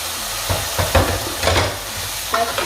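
Vegetables being stirred in a pan with a sizzling hiss, several distinct scraping strokes spaced through the short stretch, fairly close, no talking.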